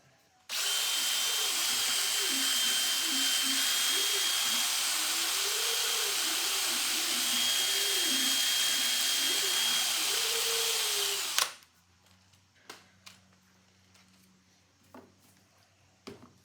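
A drill spins a flex hone through the inside of a cast Edison Diamond Disc winding crank mechanism, giving a loud, steady whine with wavering grinding for about eleven seconds, then stopping abruptly and leaving faint clicks and handling noises.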